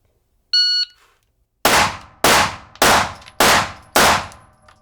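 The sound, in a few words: handgun firing five rounds at a cardboard target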